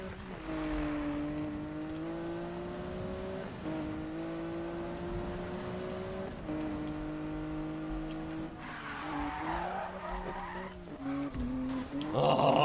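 A car in Need for Speed brakes hard with long, tonal tire squeals that rise and slide in pitch over a droning engine, sustained and close, ending in a louder scrape.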